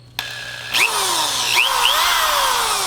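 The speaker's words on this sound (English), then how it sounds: "We're gonna test the drill." Corded power drill powered from an RV's battery charger, in short bursts: a sharp spin-up whine that rises and drops, with two or three quick revs in a row, loud and close.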